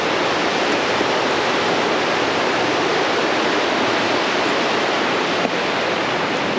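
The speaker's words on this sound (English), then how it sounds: "The river has some really good flow because of all the snow melt we've had lately" Fast river swollen with snow melt, a loud, dense, unbroken roar of rushing water heard close with no voices over it.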